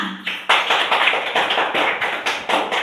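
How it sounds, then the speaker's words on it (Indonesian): A small classroom group claps together in a regular, evenly spaced rhythm of sharp, close claps, loud and without talk, after a brief opening sound. "Tepuk tangan untuk Mbak Lina."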